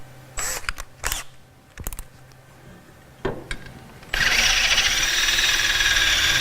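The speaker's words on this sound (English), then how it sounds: "we're gonna drill our first hole into the skid plate" Power drill boring a hole into a motorcycle linkage skid plate, preceded by a few handling clicks and knocks, then a loud, steady whirring drone close by for the last couple of seconds.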